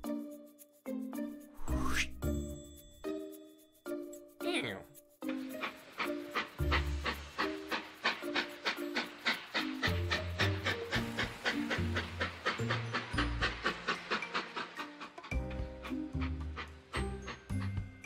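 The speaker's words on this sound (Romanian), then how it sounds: "Atunci urcă în tren și hai să pornim!" A cartoon train chugs along in a rhythmic series of bright, toy-like puffs with whistle tones, starting with a few separate hoots before settling into a steady, fast beat at a moderate level.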